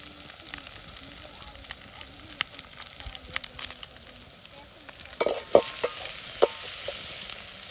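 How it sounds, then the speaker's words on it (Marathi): Onion and tomato are stirred and sautéed in a pan over a wood-fired stove in a farm field: a constant close sizzle broken by scraping spoon strokes and sharper clanks toward the end. "कांदा आणि टोमॅटो पण घालून झाले ही बघा आणि छान ते असं परतून घ्यायचं आहे"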